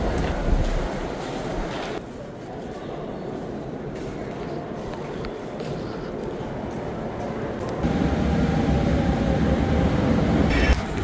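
A Paris metro train rumbles along in a continuous low roar while riding on board, with a brief dip in level and a louder stretch near the end.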